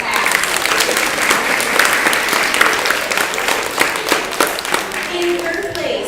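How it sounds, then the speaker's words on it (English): An audience in a school setting applauds a class at a track and field day awards, steady loud clapping from a crowd sustained throughout, with some voices mixed in. "let's give a round of applause to Mrs. Fiesler's class"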